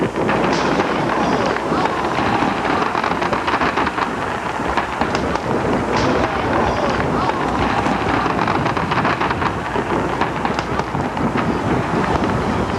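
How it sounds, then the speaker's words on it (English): An accidental ground explosion of a Fourth of July fireworks display in Duluth, Minnesota, in 1988: a dense, continuous barrage of loud booms and crackling bursts overlapping without pause, like a roaring storm of explosions. "I think we have a ground explosion"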